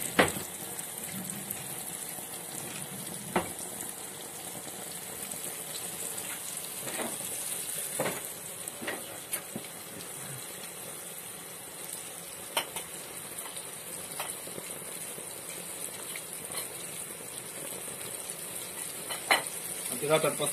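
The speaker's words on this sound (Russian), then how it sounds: "поснимайте, как красиво жарится рыбка" Steady oil sizzle and crackle of fish frying in a pan fill the scene, with occasional soft clinks and pops, moderately quiet and continuous throughout.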